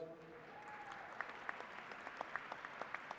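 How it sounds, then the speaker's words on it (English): Faint, scattered claps from a commencement audience at SIUC's 2021 fall ceremony, heard after a brief held tone; they pick up as sharp, separate hand claps, distant and quiet. "Let's give her another big round of applause."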